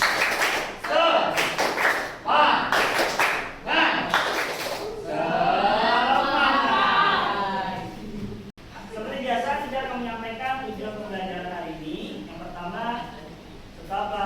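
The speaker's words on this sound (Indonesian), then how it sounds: "Tepuk semangat." A junior high school class in Indonesia claps in a quick rhythmic pattern, then voices join in a chanted cheer, with several people talking and responding together.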